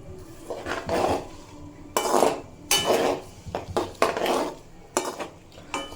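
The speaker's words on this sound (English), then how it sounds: "Next we've got capsicum coming in over here, and then I'm going to stir and fry it a bit" Capsicum is stir-fried in a pan, with a metal spatula scraping and clanking against the pan in loud, irregular strokes over a faint sizzle.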